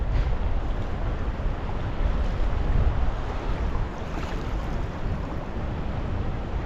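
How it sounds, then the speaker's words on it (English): Heavy surf and breaking waves along a shore where someone is fishing, a loud continuous wash of water with gusting wind buffeting the microphone throughout. "Some of these waves are quite big."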